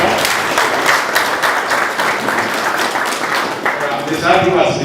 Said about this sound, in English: Let's clap for Mr.